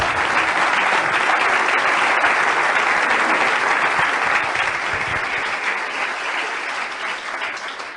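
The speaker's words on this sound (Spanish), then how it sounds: "Démosle un aplauso." Sustained audience applause at a church Bible study, dense and steady across the whole stretch, easing slightly toward the end with no talk over it.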